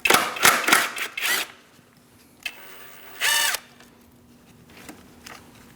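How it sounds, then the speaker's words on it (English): Short bursts of a ratcheting tool on a 13mm socket loosening a nut on a 2000-2006 Mini Cooper 1.6L, a few quick whirring runs with pauses between, close and alone. "So we're going to use a 13mm socket, and we're going to remove this nut."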